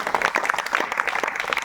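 A church congregation clapping loudly at a Friday anointing prayer service, dense rhythmic hand claps from many people, close and continuous with brief crowd murmur underneath.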